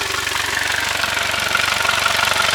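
The engine of a used 2024 Tahoe 185 S boat runs steadily with a loud, even, rapidly pulsing hum throughout and no talk.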